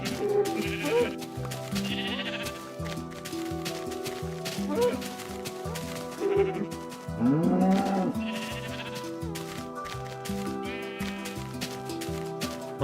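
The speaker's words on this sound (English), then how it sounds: "Why the fuck are there so many sheep here?" Several sheep in Minecraft bleat repeatedly, close and overlapping, over continuous background game music with steady tonal notes.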